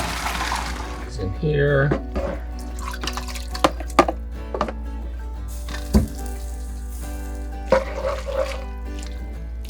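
Pasta cooked with clams is strained in a galley kitchen aboard a sailing boat, with scattered drips and small splashes of water around intermittent talking.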